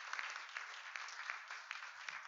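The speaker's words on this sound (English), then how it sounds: "if we can get a round of applause for both of our candidates in District 1 for attending this evening" An audience at a police officers guild public safety forum claps for two District 1 candidates, producing a faint, steady patter of scattered applause heard from a distance.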